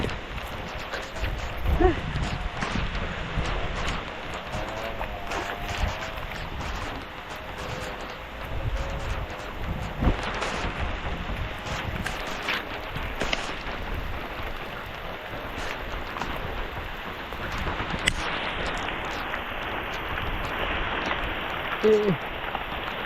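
Steady heavy rain pouring down, a dense hiss with gusts of wind buffeting the microphone throughout.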